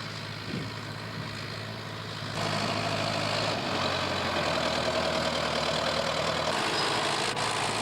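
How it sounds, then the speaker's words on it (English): A skidder tractor's heavy diesel engine idles steadily nearby in a forest, a low rumbling drone that grows slightly louder partway through and holds. "the skidder is a large tractor, complete with steel rope and winch, which drags the trees off-site whole"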